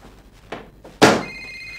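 An indoor telephone rings once, a bright electronic trill that comes in abruptly after a couple of soft thumps and holds steady, fairly close and loud, with no talking.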